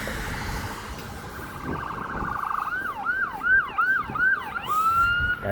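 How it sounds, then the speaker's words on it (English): An ambulance siren wails in a rapid rising-and-falling yelp, growing clearer as it nears, over background traffic rumble on Bathurst Street in Toronto. "That sounds like an ambulance,"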